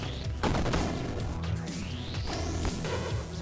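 Rapid gunfire in the roguelite shooter Still Not Dead: Run and Gun, a shotgun blasting in quick repeated bursts amid crashes and whooshing effects over game music, moderately loud and continuous, with no talking.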